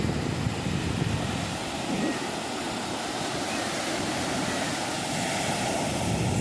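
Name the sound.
sea waves on a beach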